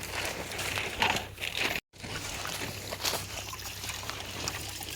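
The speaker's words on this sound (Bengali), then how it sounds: "আমি এখানে চালটা ধুয়ে নিচ্ছি" Rice is washed in water outdoors, with sloshing, trickling and dribbling water and light rustling, heard close and moderately quiet, broken by a brief gap of silence, without speech.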